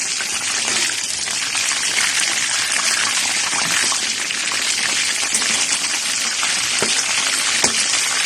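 Chicken drumsticks coated in batter with garlic and pepper deep-fry in hot oil in a home kitchen, a steady, loud, dense sizzle and crackle that holds evenly throughout with occasional sharper pops.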